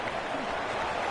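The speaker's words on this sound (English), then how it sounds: "this crowd is buzzing after that last score" Stadium crowd in the College Football 25 video game, a steady broad roar of cheering and buzz that holds at an even level throughout, with a commentator's voice faintly mixed under it.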